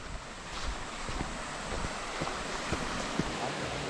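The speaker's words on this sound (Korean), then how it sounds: "큰 바위 사이로 이렇게 계곡물이 흘러내리고 있습니다" A mountain valley stream flows and splashes between large rocks on Daeyasan, a steady close wash of water with occasional small splashes and some wind buffeting the microphone.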